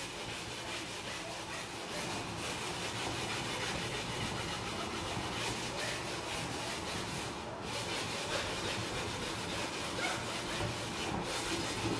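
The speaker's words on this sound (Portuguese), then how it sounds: "Vou pegar essa lixa aqui, ó. Lixinha seca. Ela come bem também essa lixinha" Dry sandpaper rubbed steadily across a metal jewellery chain, a gourmet-style chain of about 20 grams, giving a continuous gritty scraping that holds at an even level throughout with no talk over it.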